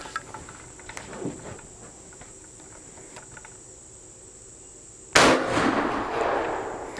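A single loud, sharp blast from an 1861 Cook and Brother .58 caliber Civil War carbine, percussion capped and fired at a target outdoors, breaks through steady chirping crickets and rolls off in a brief echoing tail.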